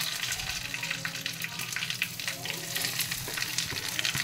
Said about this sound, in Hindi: इसी तड़के में हम अपना आलू डालेंगे।